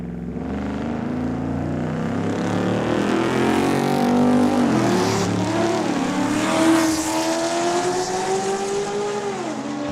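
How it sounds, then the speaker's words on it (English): Race cars in a drag race at Saskatchewan International Raceway in Saskatoon, with loud, sustained engine roars rising and shifting in pitch as they accelerate, overlapping engines close by, without pauses. "Well, we've got a drag race here."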